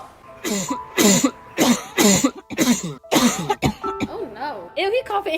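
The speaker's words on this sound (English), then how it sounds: "he coughing in his face" A person coughs repeatedly in a loud, close series of about six harsh bursts, followed by throat clearing and raspy voiced sounds.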